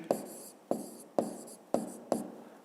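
Handwriting with a pen on paper while working a physics exercise, five short scratchy strokes in an even rhythm, close and soft.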